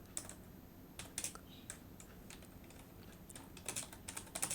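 Typing on a computer keyboard while Python if-else code is entered: a quiet, close stream of irregular clicks and taps with short pauses and a few quick bursts.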